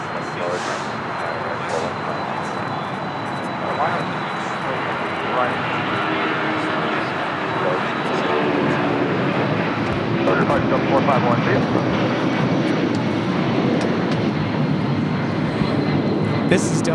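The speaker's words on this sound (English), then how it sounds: "This is Delta Airlines 451 taking off to Atlanta on a 757-300." A Delta Airlines Boeing 757-300 jet takes off at LAX, its engines building into a loud, sustained roar that grows slightly stronger over time, with someone talking over it.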